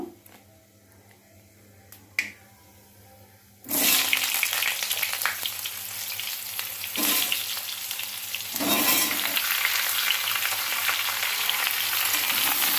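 After a quiet stretch with a couple of small clicks, raw mango pieces drop into a hot pan and set off a sudden loud sizzle that keeps crackling steadily until the end.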